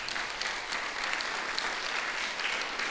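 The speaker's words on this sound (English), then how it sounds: "Big round of applause." A crowd applauding steadily, dense clapping at full strength throughout, with no voices.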